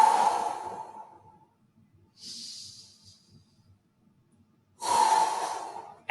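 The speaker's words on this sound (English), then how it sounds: "Take 2 big deep breaths in through the nose, out through the mouth." Deep breathing in through the nose and out through the mouth during a hip stretch: a long loud exhale, a softer hissing inhale, then another strong exhale, close and alone with quiet pauses between.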